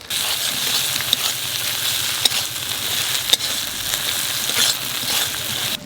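Potato and tender young jackfruit fry in a pan with salt and turmeric, giving a steady, bright sizzle throughout with a few small sharp pops and clicks, no voices.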